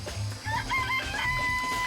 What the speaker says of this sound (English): I remember there were some chickens in the chicken coop.